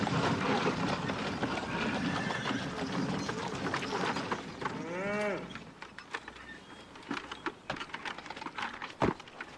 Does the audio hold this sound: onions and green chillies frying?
no